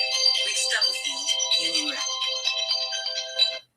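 An incoming-call phone ringtone plays as a bright, repeating melodic tone, fairly loud and continuous, then stops abruptly.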